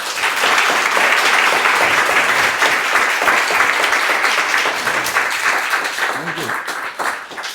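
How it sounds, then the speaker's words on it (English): Sustained audience applause at a talk by Sacinandana Swami in New York City, dense and loud throughout and tapering slightly toward the end, with faint voices mixed in. "We can thank him with one more round of applause."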